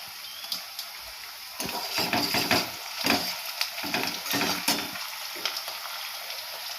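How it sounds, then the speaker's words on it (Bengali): Onion, cloves and bay leaves fry in oil, producing a continuous sizzle broken by louder crackling bursts and stirring scrapes, close and fairly quiet, with no talking. "পেঁয়াজটা একটু ভাজা হয়ে এসেছে, আমি এর মধ্যে গোটা 2টো লবঙ্গ দিয়ে দিলাম, গোটা 2টো তেজপাতা দিয়ে দিলাম"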